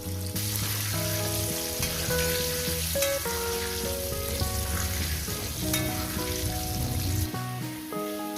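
Potato pieces fry in hot oil until browned for a spicy chicken kosha, a dense crackling sizzle running under steady background music.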